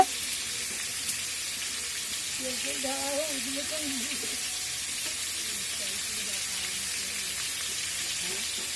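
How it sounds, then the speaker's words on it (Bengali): A continuous, even sizzle of potatoes frying in a pan on a home stove, with a faint voice murmuring briefly in the background. "এখন আলু ভাজা হচ্ছে"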